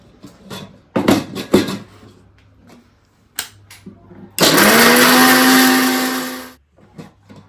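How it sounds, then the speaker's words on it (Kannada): A kitchen mixer grinder runs loud and steady for about two seconds, grinding vegetables with water for egg sambar, after a few clunks and brief knocks of handling the jar beforehand. "ಅದಾದಮೇಲೆ ನೀರನ್ನ ಸೇರಿಸ್ಕೊಂಡು ರುಬ್ಕೋತೀನಿ"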